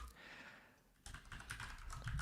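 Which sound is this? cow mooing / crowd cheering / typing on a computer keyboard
typing on a computer keyboard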